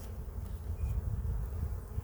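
Honeybees buzzing around a brood frame laden with pollen and syrup during a hive inspection, a low, quiet, continuous hum close by with no talking.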